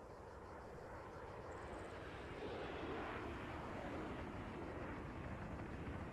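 Steady droning aircraft engines in the video game Warlords Redux, a continuous faint propeller-plane hum that swells slightly midway, with no talking.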